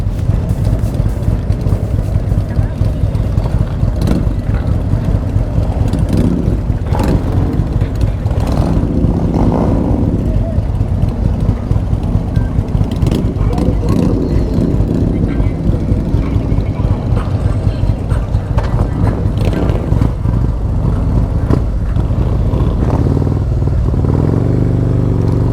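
Harley-Davidson motorcycles roll out together in Miami, a loud, continuous blend of engine rumble and clatter that stays dense and close for the whole stretch, with scattered sharper bursts and some background voices.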